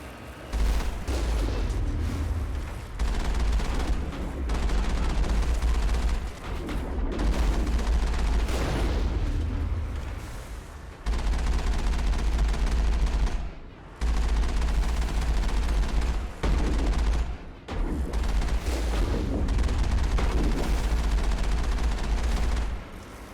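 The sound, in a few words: gunfire from enemies shooting, in the video game Mass Effect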